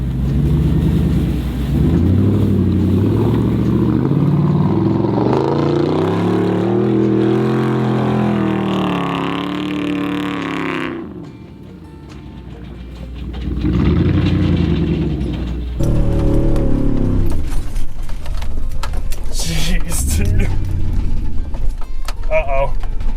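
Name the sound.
Chevrolet Tahoe truck engine revving while stuck on a trail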